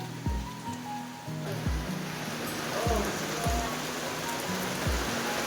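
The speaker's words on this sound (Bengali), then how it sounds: "কি সুন্দর বৃষ্টি" Rain pours steadily during Cyclone Remal, a dense, even wash of falling water close by, with occasional low thumps and faint background sounds mixed in.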